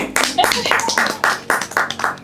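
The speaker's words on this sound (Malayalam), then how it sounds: "കൈയടിക്ക് ജിസ്റ്റി." Hands clap in congratulation for a prize winner, a run of distinct, fairly close claps in an irregular rhythm with talking mixed in.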